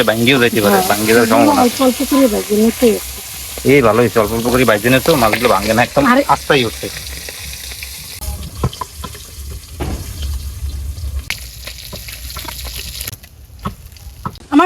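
Large pieces of poa fish fry in oil in a wok for a village-style winter curry, with a steady loud sizzle, while a voice talks over the first half before the frying continues alone.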